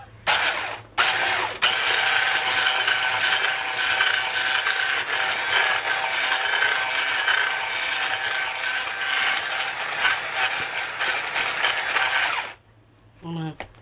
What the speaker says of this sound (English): Not one of the best whisks.